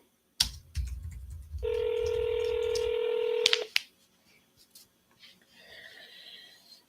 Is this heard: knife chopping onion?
no